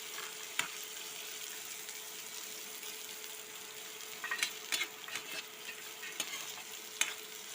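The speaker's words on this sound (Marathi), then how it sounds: "कांदा टाकून घेतला आपण आता मस्त थोडासा पिवळा होऊन द्यायचा" Onion fries in a pan with a soft, steady sizzle, and a spoon scrapes and clicks against the pan in scattered bursts as it is stirred, heard quietly and close with no talking.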